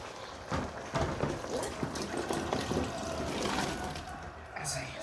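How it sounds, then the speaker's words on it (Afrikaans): Water pours steadily into a cooking pot of potatoes for several seconds, a splashing, gurgling fill with some clattering and a voice speaking over it. "Komt die water in."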